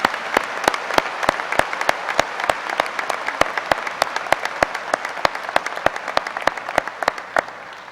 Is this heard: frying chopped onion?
no